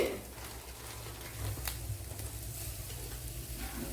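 Fennel seeds crackling and sizzling in hot oil in a pan while cooking bitter gourd, a steady close frying hiss with light stirring, no talking.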